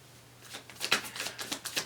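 A deck of cards being shuffled during a reading gives quiet, close papery riffles and flutters. The bursts grow livelier and repeat quickly toward the end, with no voices over them.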